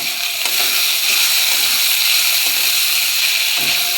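Greens mixed with fried bitter gourd are stirred in a pan, giving a continuous bright sizzle with soft scraping and clinks of the spatula at an irregular pace, heard up close with no talking.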